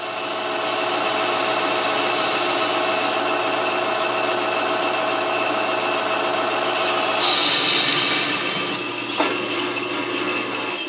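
An electric drill whirs continuously at a steady pitch while building a belt grinder, with a brief shift in tone partway through and a few light clicks near the end.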